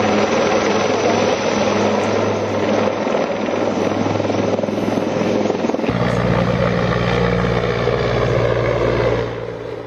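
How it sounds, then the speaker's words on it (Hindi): An NIA helicopter landing in Pahalgam gives a loud, close, continuous rotor and engine roar that shifts slightly in pitch partway through and dominates the whole scene. "एनआईए के हेलीकॉप्टर आप देख रहे हैं, पहलगाम में उतरा"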